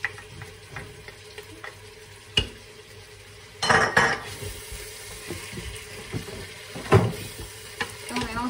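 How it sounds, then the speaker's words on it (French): Parsley and coriander are stirred into a prune tagine in a Cookeo multicooker, with utensil scrapes and knocks over a steady sizzle and a louder burst of clatter midway. "Et on mélange le tout."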